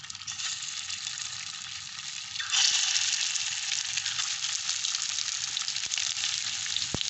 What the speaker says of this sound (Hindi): पैन में ऑयल डाल के हमने अच्छी तरह गर्म कर लिया है। तो हम एक एक गोला कबाब इसमें डालते जाएंगे।